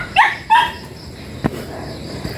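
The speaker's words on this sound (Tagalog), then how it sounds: "Ayan na, may aso." A dog barks twice in quick succession outdoors in a rural Philippine neighborhood, short sharp yaps at moderate distance, followed by a faint thump and quiet background noise.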